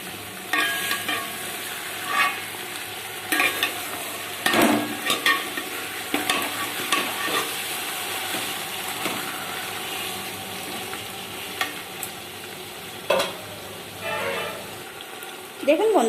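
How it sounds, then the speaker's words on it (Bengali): Marinated chicken pieces and potato pieces sizzle loudly in a pan, with repeated scraping stirs and clanks of a utensil over a continuous frying hiss, plus some voice in the background. "এরপর দিয়ে দিলাম ম্যারিনেট করে রাখা মাংসের পিস।"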